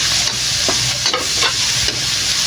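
Garlic sizzles loudly in hot melted butter in a pan while being stirred for buttered garlic shrimp, a dense continuous crackle with occasional scraping stirs, close up.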